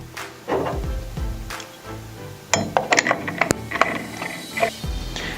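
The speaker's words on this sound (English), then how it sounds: "then thread on the arbor screw" Arbor screw being threaded onto the arbor of a concrete groove cutter fitted with blades and spacers, giving a run of small metallic clicks and ratcheting clinks, close and fairly quiet, with no talk.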